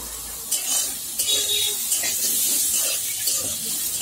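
Potatoes, stems and green chillies fry in a pan with a soft sizzle, and a utensil scrapes and stirs them at intervals, close and steady.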